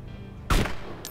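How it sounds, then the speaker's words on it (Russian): A single sharp gunshot fired in DayZ Standalone near Berezino, a loud broadband crack with a short tail, followed by a fainter brief report a half-second later over quiet ambience. "Стреляю, блять, попадаю в окно"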